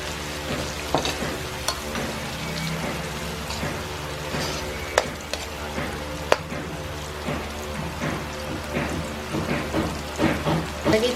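Garlic and white onion fry in a pan with a steady, close sizzle, broken by occasional sharp clicks and scrapes of stirring.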